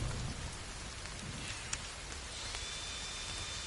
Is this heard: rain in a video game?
yes